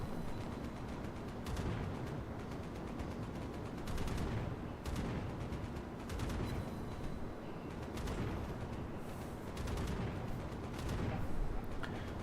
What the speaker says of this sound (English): Oh. The dive bombers. Suzumiya popped the barrage ability.